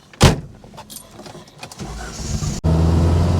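An Alfa Romeo 1750 GTV gets ready to set off on a drive: a sharp door thump and some clicks and handling sounds, then the engine fires up into a loud, steady, close idle.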